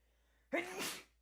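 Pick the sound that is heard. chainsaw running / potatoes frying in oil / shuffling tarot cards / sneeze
sneeze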